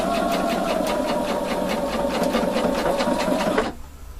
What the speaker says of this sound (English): Then I'm going to sew